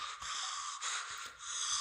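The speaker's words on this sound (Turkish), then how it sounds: "Nefes nefese kalmış bizim herif." A horror video game character gasping for breath on waking in a bathroom, several sharp breathy gasps and heavy breaths in an uneven rhythm, close and fairly loud, with no speech.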